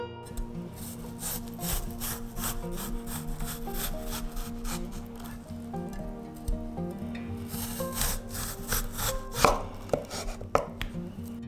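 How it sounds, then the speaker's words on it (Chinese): A knife slices through boiled lotus root on a board, each thin round cut partly through, in a steady run of crisp, rasping chops with a few sharper knocks near the end, close and clear with no talk. "切片就很简单了，2片中间不要切断，小拇指厚就可以了"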